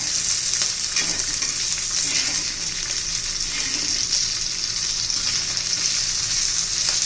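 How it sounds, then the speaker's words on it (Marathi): Green chillies and garlic sizzle steadily in a hot pan for Kolhapuri thecha, a dense, continuous frying hiss with occasional soft stirring scrapes, close and loud throughout with no talking. "मिरच्या पण आता परतून घेऊया. लसूण पण घालून घ्यायचे आपल्याला."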